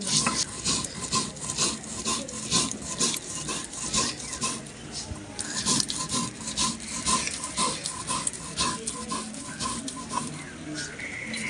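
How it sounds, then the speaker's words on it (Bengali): Soaked gobindobhog rice ground with water on a stone slab, giving a steady rhythmic rasping and rubbing, close and moderately quiet, repeating without pause. "এবার আমি সিন্দুরায় বেটে নেবো জল দিয়ে"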